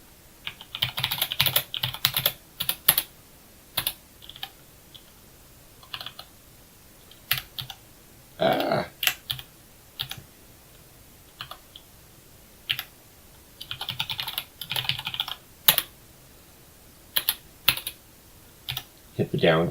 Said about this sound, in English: Hit the down key and keep on typing.